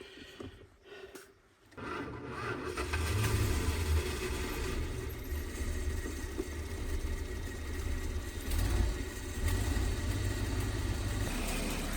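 An old Winnebago Brave motorhome engine, unmoved for over 25 years, rumbles steadily after a brief quiet start, a close low drone with rubbing and creaking as it begins to move.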